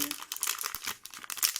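A plastic bag holding small craft beads is opened close by, with a quick burst of crinkling and rustling and a brief tear of plastic.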